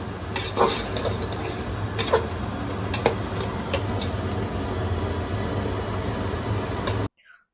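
Chicken in a pot being stirred together with gongura paste for an Andhra-style gongura chicken biryani, a steady sizzle under repeated scraping, clicking spoon strokes that stop abruptly near the end.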